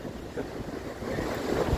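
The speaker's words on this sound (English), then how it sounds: "So what you just saw there was the Seiche taking place." Storm-driven seiche surge of lake water at Crystal Beach, a broad rumbling wash of water with gusting wind noise that builds toward the end, close and fairly loud, no talk.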